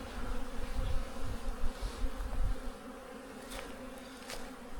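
Swarm of bees humming around their nest in rural China, a continuous close buzzing hum that stays strong throughout, with a few brief faint sharper sounds above it and no speech.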